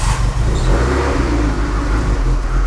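A carbureted BMW M3 engine fires up and runs loud and close, a steady mid-pitched rumble with a slight rise in revs and no talk over it.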